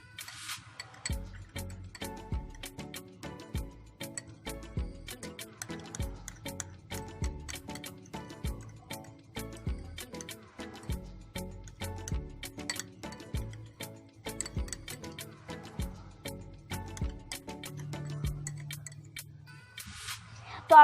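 A spoon stirs coffee and milk for a homemade peel-off face mask, giving rapid, light clinks and ticks against a small bowl in a steady rhythm, quiet and close.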